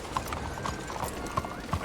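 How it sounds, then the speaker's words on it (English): Horse hooves clip-clop at a slow walk in Red Dead Redemption 2, with a handful of distinct moderate steps over a faint ambient background and a hint of a whinny. "That's a strong-looking horse."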